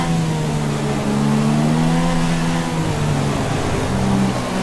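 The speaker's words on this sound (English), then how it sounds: "Shifting down slowly, down to second gear." Formula 1 car engine in the racing game F1 2016, a loud, close whining tone that drops in pitch in steps as the car shifts down through the gears, with a rough mechanical rasp underneath.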